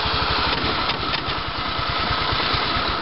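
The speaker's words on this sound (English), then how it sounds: "There goes my mower!" A racing lawn mower engine runs hard and steady, a loud, close, rapidly pulsing buzz with no pauses and no voices over it.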